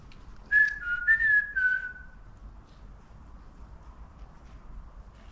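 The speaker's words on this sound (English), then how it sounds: "Can you copy this whistle for us, please?" A person whistles a short warbling phrase of a few notes, fairly faint, followed by quiet outdoor background.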